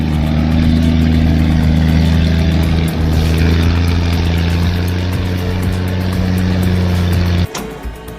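Cat 3406 diesel in an '86 Pacific truck runs with a deep, loud, steady rumble that holds for several seconds before abruptly shutting off.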